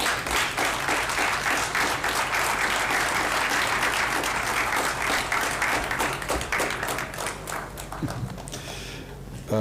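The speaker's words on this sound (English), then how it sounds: "Please welcome with a round of applause and with a standing ovation to Chief Justice Qazi Faiz Isa." A large audience at a judicial academy event gives sustained loud applause, dense overlapping clapping that holds steady for several seconds before tapering slightly at the end.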